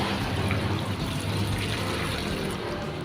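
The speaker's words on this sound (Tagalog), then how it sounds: "At sinimulan ko na ito lagyan ng tubig bago ko ito isalang sa apoy." Water pouring steadily into a pot of ube halaya mixture before cooking over a wood fire, a continuous close splashing and trickling rush lasting throughout.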